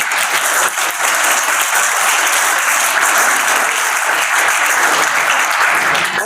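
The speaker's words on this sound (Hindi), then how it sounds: "मैं अपने लिए भी तालियां बजवाना चाहूँगा आप लोगों से" Loud, sustained applause from a large audience at a public gathering in Mundhal, dense clapping filling the space steadily for several seconds with no talking.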